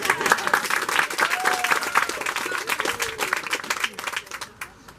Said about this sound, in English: That does deserve a hand clap.